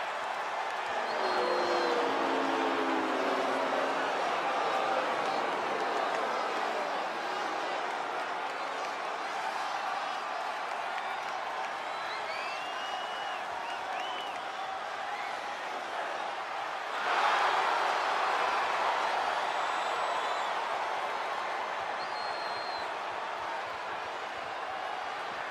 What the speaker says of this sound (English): And just listen to that crowd.